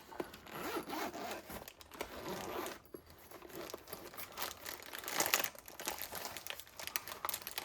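A zipper is drawn open around a carry case from a Wahl Colour Pro cordless combi haircutting kit, heard close up as a long rasping pull with crinkling handling noise, with no talk.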